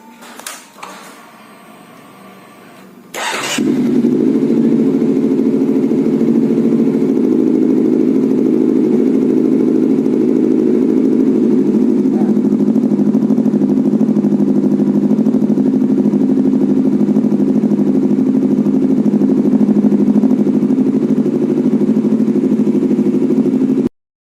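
Motorcycle engine fitted with an MBRTech quickshifter, running an auto warm-up test with the yellow wire disconnected: after a few seconds of clatter the engine starts and holds a loud, steady, even idle until the end.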